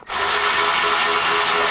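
Power tool driving thermostat housing bolts on a 2011–2013 Chrysler 200, a sudden steady whirring buzz starting abruptly and holding loud and close.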